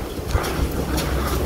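Large racehorses being readied before a race at a Japanese horse racing track clip-clop with a few close, dull hoof thuds against a busy outdoor background.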